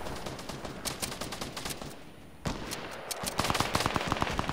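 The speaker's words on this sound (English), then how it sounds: "I just shot for no reason." Gunfire in the Fortnite video game, rapid bursts of shots crackling under game noise, with a brief lull midway before denser repeated firing returns toward the end.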